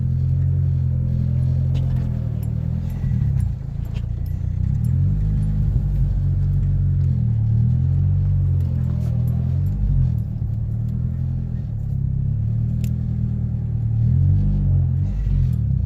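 A 2019 Chevrolet Camaro SS with its secondary catalytic converter deleted, driving with a loud, steady, deep exhaust rumble close by. The note shifts slightly throughout and there is no talk.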